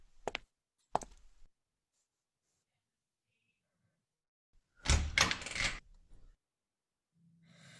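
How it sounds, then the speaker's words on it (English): In a Dracula radio drama, a door is shut and chains rattle: two sharp clicks, a pause, then a louder burst of clattering metallic noise about a second long before quiet. "The door is shut and the chains rattle."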